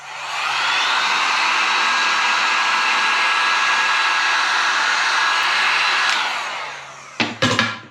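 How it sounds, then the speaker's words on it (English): Seek heat gun blowing continuously with a loud, steady whine and airy rush for several seconds, then shutting off, followed by a few brief handling knocks. "I'm just using a Seek 1 heat gun"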